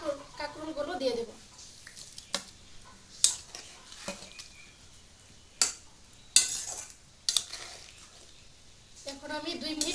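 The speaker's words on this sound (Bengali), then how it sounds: "এখন আমি ভেজে রাখা কাঁকরোলগুলো দিয়ে দেব।" Pre-fried spiny gourd (kakrol) tipped into a pan for kakrol jhal and stirred, with scattered clinks and scrapes of a utensil against the pan over a soft sizzle, while a voice talks intermittently nearby.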